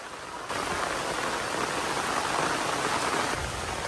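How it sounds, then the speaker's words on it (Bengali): Heavy monsoon rain pours down outdoors by a garden, a loud dense steady hiss of drops that starts abruptly and keeps going evenly, close and without talk. "প্রচন্ড বৃষ্টি চলে আসছে মা, চলো, খুব জোরে জল হচ্ছে"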